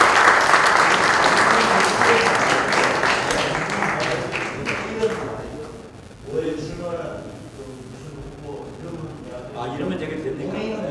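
Applause from the audience at a church mission society general assembly fills the hall loudly for about five seconds, then fades out as people begin talking.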